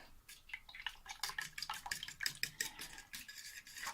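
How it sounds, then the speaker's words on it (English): A single egg is whisked for an egg wash, the fork or whisk tapping quickly and rhythmically against the bowl in a quiet run of light clicks. "Just whisk it up."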